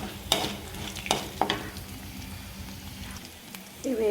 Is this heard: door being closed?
no